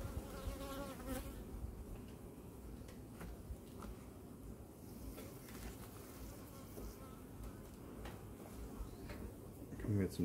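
Honeybees humming inside an opened hive during a colony inspection, a close, steady buzz running throughout, with occasional clicks and knocks and someone speaking German over it.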